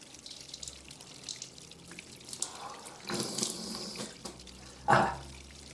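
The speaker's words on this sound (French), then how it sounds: "Nous allons maintenant faire le rinçage du nez." Water from a neti pot trickles and splashes softly during a nasal rinse, quiet irregular gurgles and drips building to a brief louder burst near the end.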